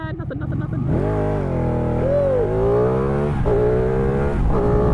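A Ducati Panigale 899 sport motorcycle engine revs hard and climbs through the gears on a freeway, loud and close, its pitch rising steadily with brief dips at each shift.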